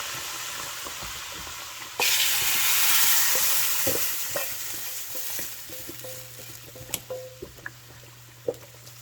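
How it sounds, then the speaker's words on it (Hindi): Tadka of crushed red chili and cumin hits the pan with a sudden loud, bright sizzle that swells and then slowly settles into a steady frying hiss, with a few clinks of a spoon stirring near the end. "अब इस टाइम पे हम यहाँ पे तड़का लगा देंगे"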